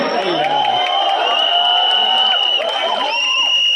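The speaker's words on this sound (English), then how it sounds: "Round of applause" Crowd noise at a film trailer launch event with cheering swelling steadily throughout, a dense roar of voices and whoops with a loud host voice talking over it.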